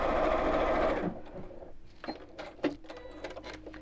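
A sewing machine runs in a steady fast whir for about a second while stitching white pieces onto quilt block parts, then stops, leaving soft clicks and fabric handling.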